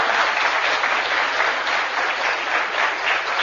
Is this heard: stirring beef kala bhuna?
no